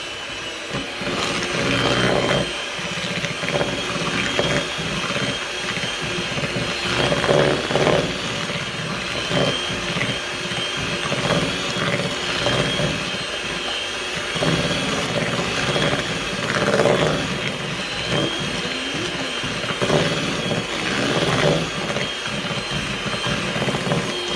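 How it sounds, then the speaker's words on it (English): An electric mixer whirs steadily through shortbread dough for cherry whirls, a continuous loud motor drone with slight wavering as the beaters work, running alone throughout. "Don't put your finger in now while I'm mixing."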